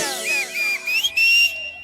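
A clear, melodic whistle carrying a short tune, close and fairly loud, with brief pauses between phrases.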